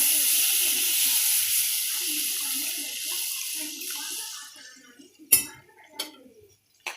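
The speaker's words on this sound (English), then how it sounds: "So I'll just add water into this mixture now." Water poured into a hot pan of masala mixture for Maggi noodles, a loud steady sizzling hiss for about four seconds that fades out, followed by a few sharp clinks and taps of utensils.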